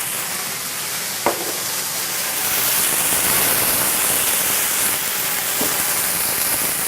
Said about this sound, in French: on va déglacer au vin blanc